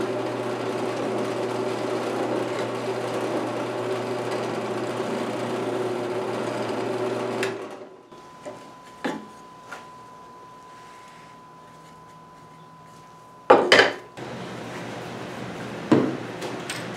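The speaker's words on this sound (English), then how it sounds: "Okay, got the holes drilled." A drill running through a wooden whirligig blade drones steadily and close for about seven seconds, then stops, followed by quiet handling clicks, a faint hum and a few sharp knocks and thumps.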